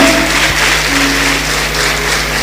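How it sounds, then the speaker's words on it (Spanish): A church congregation applauds loudly during worship, a thick, sustained roar of clapping that fills the room at steady strength from start to finish, without speech. "Le damos un fuerte aplauso, Rey de la Gloria, bien fuerte."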